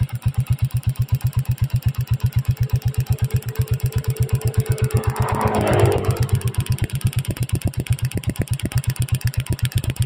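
An engine runs on an Apido ignition coil after seven months of use, idling close and loud with a fast, even train of low thumping pulses that swell briefly in the middle.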